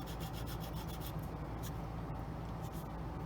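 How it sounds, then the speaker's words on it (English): Hand sanding of seam lines on an Eduard MiG-21 PFM plastic model kit, quiet rhythmic back-and-forth rubbing strokes, faint and close, with no talking. "sanding those seam lines down"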